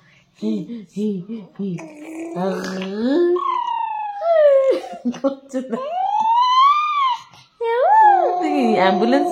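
A voice imitates an ambulance siren with rising and falling wails, repeated several times close up and loud.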